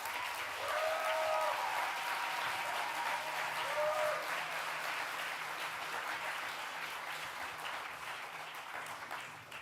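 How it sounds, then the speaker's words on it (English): Sustained audience applause welcoming a keynote speaker at an Indigenous Liberation Day event, steady and dense throughout, with a few faint voices and whoops near the start before it slowly tapers. "A warm and big applause for Esther."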